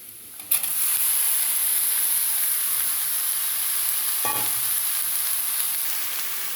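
Ridge gourd pieces hit hot oil with softened onions in a pan, giving a sudden loud burst of frying that settles into a steady, bright sizzle with a brief clatter of stirring midway.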